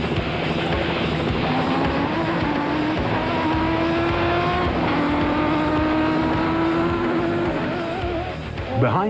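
Off-road racing vehicles roar loudly during the Tarka 400 race over a dusty route with contour drains, engines revving and shifting pitch continuously up close, ending with a sharp burst of noise.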